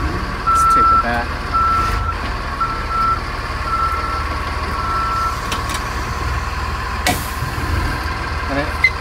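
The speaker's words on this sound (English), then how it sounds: "a different backup alarm than I'm used to" Repeated backup alarm beeps from a 2007 Freightliner FS65 truck, a steady evenly spaced series over its running engine, with a brief air hiss partway through.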